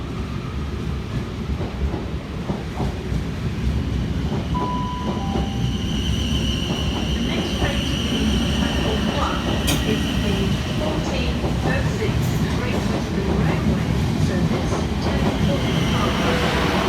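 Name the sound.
train at Southampton Central station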